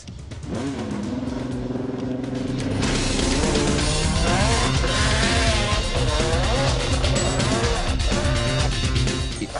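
A Ferrari road car lapping the Valencia circuit, its engine revving hard through rising and falling gear changes, loud and close, with brief tire noise as it accelerates.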